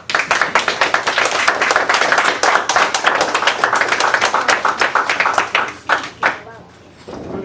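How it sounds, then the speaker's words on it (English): Audience applause at an Eagle Scout award ceremony: loud, close clapping with distinct individual claps, thinning into a few scattered claps before fading out. "Give him a applause"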